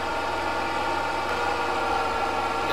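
Steady, continuous idling engine hum from a vehicle in Farming Simulator 22 with an added engine-sound mod, a constant broadband drone with no talk over it.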